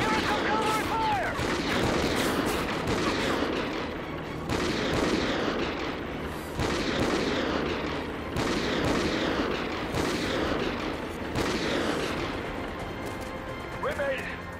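Heavy gunfire and explosions in a Call of Duty battle, with loud bursts and booming impacts recurring every second or two, under shouted voices.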